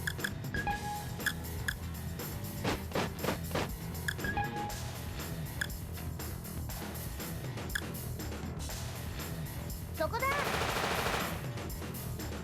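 Tanks in the video game War of the Human Tanks fire in scattered bursts of gunfire, with sharp repeated shots and a denser rattling volley near the end.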